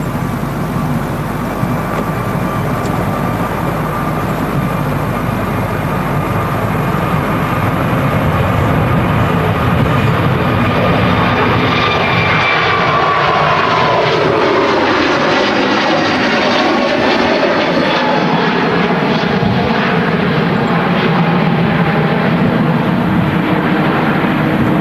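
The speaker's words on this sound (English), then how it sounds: "Here's the Air Transat about to take off." An Air Transat airliner roaring down runway 23 right at Manchester Airport on takeoff toward Toronto, a loud continuous jet engine rumble and whine that swells and shifts in pitch as it passes and climbs away.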